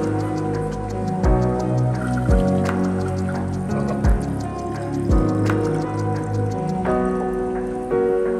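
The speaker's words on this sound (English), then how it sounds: "but first he's got to fill up the water bottle" A water bottle is filled outdoors at a campsite, with an irregular run of close, bright drips and gurgling splashes that rise in pitch and change as the water level climbs.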